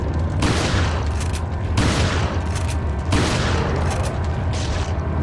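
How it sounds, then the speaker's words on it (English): Flash grenade blasts in Resident Evil 4 HD on PS4, heard as three loud booming bursts spaced about 1.5 seconds apart, each trailing off into a crackling rumble. "I think I can use a flash grenade on this guy."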